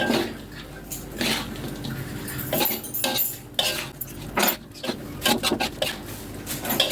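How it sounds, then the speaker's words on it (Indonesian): Potatoes being stirred in a pan while cooking, with a utensil scraping and clinking against the metal in irregular, close, fairly loud strokes, and no talking. "Kita aduk-aduk kentang."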